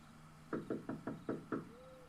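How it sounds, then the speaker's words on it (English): Six sharp knocks on a door in a quick, even sequence, fairly close, followed by a faint tonal whine in a quiet room. "I knocked one more time out of desperation"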